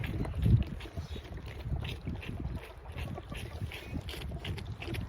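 Wind gusting around a small barn housing a young calf, a rough low rumble with buffeting against the microphone, loudest in a burst near the start and then settling into a steady moderate blow.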